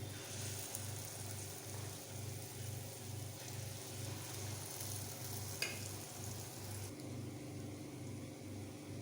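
Moong dal vadas sizzle steadily in hot oil in a pan, a close, continuous frying crackle with a faint rhythmic low hum beneath and no voices.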